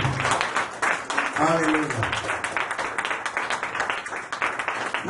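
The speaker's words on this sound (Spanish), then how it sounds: "Démosle un aplauso a ese buen pastor" A church congregation breaks into steady rhythmic clapping after a voice calls out, the claps dense and continuous beneath occasional speech.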